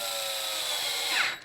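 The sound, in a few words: power drill driving screws into AR-15 handguard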